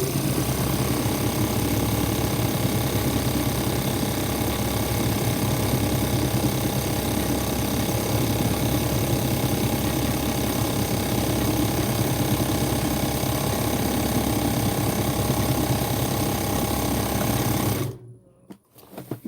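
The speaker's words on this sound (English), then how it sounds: "I'm on the Juki 1541S." Juki 1541S industrial sewing machine stitching steadily at close range for about eighteen seconds, a dense continuous mechanical whir with fine rapid rhythm, then stopping abruptly near the end.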